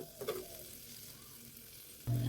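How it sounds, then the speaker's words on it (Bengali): Butter garlic sauce with black pepper is stirred in a pan as it thickens, a brief scrape of the spoon over a soft continuous sizzle, close and fairly quiet. "এটাকে এবার নাতে থাকবো একটু ঘন হবে সসটা"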